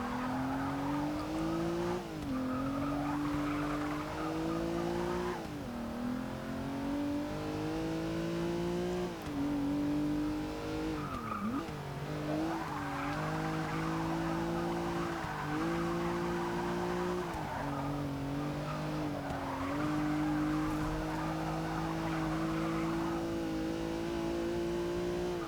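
A modified 2016 Rolls-Royce Dawn races in Forza 6 with a steady, loud engine drone. Its pitch climbs and drops again and again through gear changes, with tire squeal and skidding through the corners.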